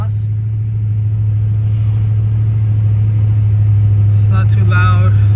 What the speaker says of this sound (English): A little video of how the exhaust sounds from the inside.